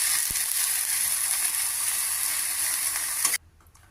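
Mint leaves and green chillies fry in oil in a pan with a steady, bright sizzle and occasional stirring clicks, which cuts off abruptly near the end, leaving quiet room tone.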